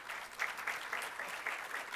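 An audience at a Hindi poetry award event applauds, a faint, fairly even wash of many hands clapping with slight swells, heard from afar and without talk.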